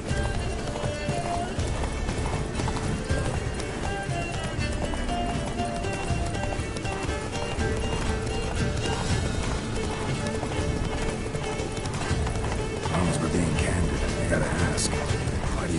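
Roach, a horse in The Witcher 3 on PS5, gallops with steady clip-clopping hooves under dense game music and effects, with occasional whinnies and speech-like sounds mixed in throughout.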